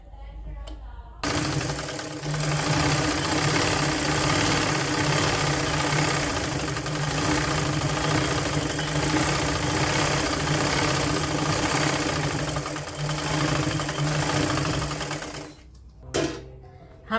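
A sewing machine runs steadily, stitching lace onto a woollen kurti, its rapid mechanical whirr loud and close for about fourteen seconds before stopping, with a brief clunk near the end.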